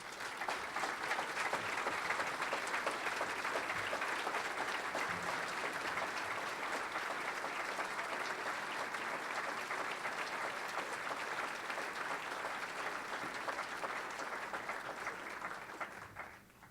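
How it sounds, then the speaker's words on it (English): Sustained applause from a conference audience at a justice and peace policy plenary, steady and fairly distant, holding for about sixteen seconds before tapering off at the end. "So applause to you for a job well done."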